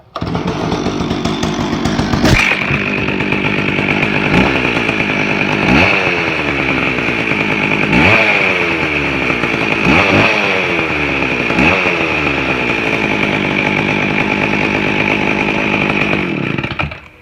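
A Pro Mac 610 chainsaw engine runs loudly and continuously nearby, revving up repeatedly in a series of surging bursts before cutting off.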